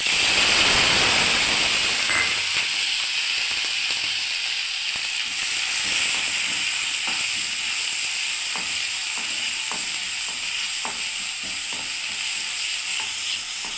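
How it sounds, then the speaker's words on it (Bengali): Onion paste dropped into hot oil sizzles with a loud, steady hiss, while a spoon scrapes and stirs now and then through the frying. "এবার আমি দিয়ে দিচ্ছি আপনার পেঁয়াজ বাটা।"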